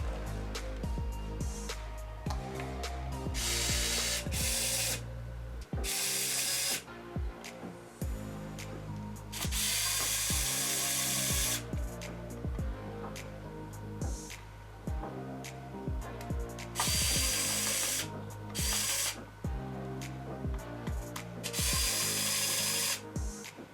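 A mini cordless rechargeable screwdriver unscrews the screws of a video game console, whirring in repeated short bursts separated by brief pauses, close and clear.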